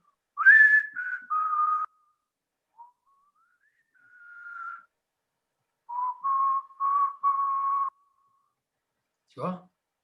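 A person whistles a short tune close to a microphone, a few clear melodic phrases with pauses between them, ending in a brief sliding note; no one talks over it.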